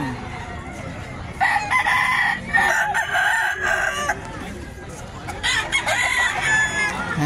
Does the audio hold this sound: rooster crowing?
yes